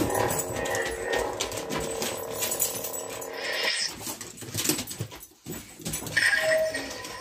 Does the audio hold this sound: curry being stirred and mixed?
no